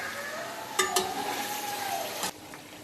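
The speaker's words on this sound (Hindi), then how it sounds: "चिकन को हमने अच्छी तरह गोल्डन ब्राउन होने तक फ्राई करना है।" Chicken fries in a karahi pan for charsi-style karahi, sizzling steadily and up close, with a few sharp clinks of a utensil against the pan.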